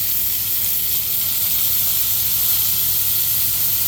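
Beans cook down in leftover sausage grease in a pan, giving a steady, even hiss of sizzling that holds at the same close, loud level without change or voices.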